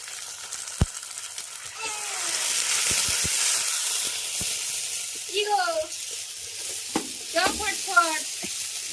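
Ground spice paste is stirred into onions frying in a pot, giving a loud steady sizzle and hiss with a few sharp clinks from the utensil, while voices talk intermittently over it.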